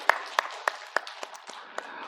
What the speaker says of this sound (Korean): 하나님께 영광을 박수드리겠습니다.